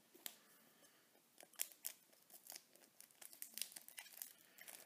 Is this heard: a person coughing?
no